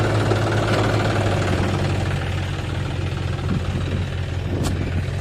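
A tractor engine on a farm field runs steadily at a low, rumbling idle with a faint knocking rhythm, loud and continuous with no voices.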